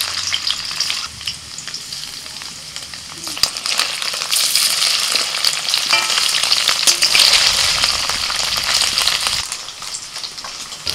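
Paneer pieces fry in hot oil in a kadai, giving a steady, close bright sizzle that runs unbroken throughout, with a few small clinks and stirring noises on top.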